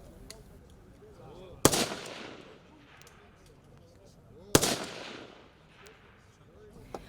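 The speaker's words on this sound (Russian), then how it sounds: "Зарядить обойму, вставить ее в ружье, снять с предохранителя, затем дослать патрон в патронник и стрелять." Two loud rifle shots at a military shooting exercise, a few seconds apart, each a sharp crack with a ringing tail, over faint background murmur and small knocks.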